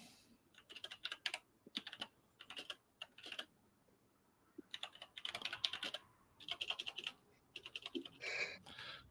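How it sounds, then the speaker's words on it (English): Quiet, close typing on a computer keyboard comes in irregular bursts of rapid key clicks separated by short pauses, with no one talking. "Just typing this out."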